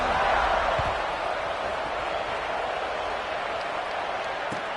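A home crowd roars at kickoff in a college football video game, a steady, loud stadium rumble that holds evenly for several seconds with no clear breaks.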